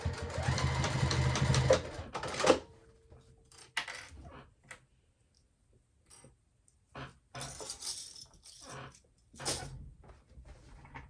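A sewing machine stitches a clutch wallet in a few short bursts, a loud run at the start then scattered brief whirs separated by quiet pauses, with light clicks of handling in between.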